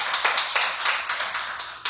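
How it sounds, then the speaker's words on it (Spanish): A church congregation applauds in praise, a steady wash of many hands clapping with faint rhythmic swells, moderately loud and without talk. "¿Cuánto le damos un aplauso a Dios?"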